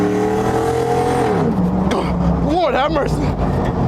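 Cars, including a Tesla, racing on a road: engines rev and whine as they pass close by, loud over constant excited shouting from people nearby.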